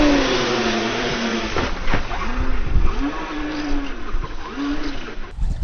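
A radio-controlled UDR truck's electric motor whines and revs as it drives, with rising and falling pitch sweeps over rough, continuous rumbling and clatter, loud and close.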